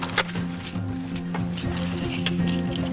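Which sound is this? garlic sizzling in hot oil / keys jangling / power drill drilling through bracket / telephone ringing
keys jangling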